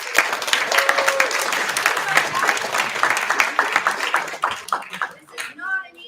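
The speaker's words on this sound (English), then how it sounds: "let's give them one more round of applause" High school audience at a poetry recitation finals giving a round of applause, close, lively clapping that thins out and ends with a voice speaking.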